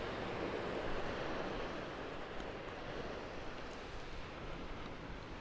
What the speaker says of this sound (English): on this side of it there's a black sand beach.